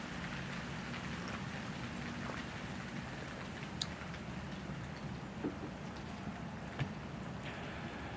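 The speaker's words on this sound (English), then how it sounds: "it is raining, and it's been raining on and off" Steady, soft rain hiss with scattered faint drips and taps, continuous and distant-sounding throughout, no voices.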